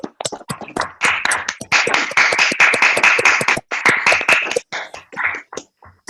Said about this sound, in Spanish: un aplauso y damos por terminado